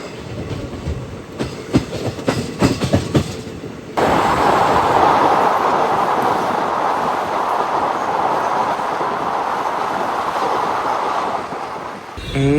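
The Ananthapuri Express rolls into Paravur station, with loud rhythmic clatter of wheels over rail joints at first, then a steady close roar of the moving train that eases slightly near the end.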